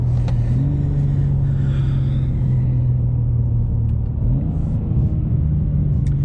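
A stock BMW M2 cruises on a road, its engine giving a steady, loud low rumble with a slight rise in pitch partway through, heard from inside the car without talk.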